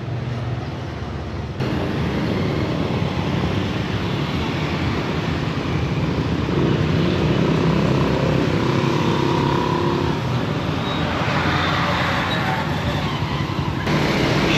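Busy street traffic in a Peruvian Amazon town, with buses converted from trams and motorized tuk tuks passing; a steady, dense roar of engines and revving runs throughout, close and loud.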